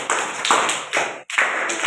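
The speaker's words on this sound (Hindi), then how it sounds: "प्रिया के लिए जोरदार तालियां बजाएं।" A classroom group claps for a team that answered correctly during a snakes-and-ladders floor game, several short bursts of loud, close applause separated by brief pauses.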